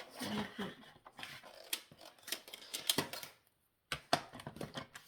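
Several crisp snips of scissors cutting paper, close by, in short irregular bursts with a brief quiet pause midway.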